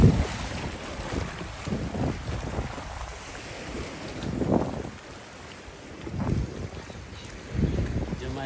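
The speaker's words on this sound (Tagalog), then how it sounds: "Sarap ng hangin." Gusty seaside wind at low tide in Omaezaki, Shizuoka, Japan, buffets the microphone with a low rumbling roar that swells and fades in waves, with faint background sounds underneath.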